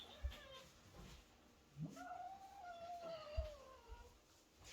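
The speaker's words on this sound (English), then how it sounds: "Did you hear the growl?" A cat growls and yowls indoors in a home with other cats nearby, a low drawn-out moan rising into a wavering caterwaul, fairly close but quiet, with a few soft knocks around it.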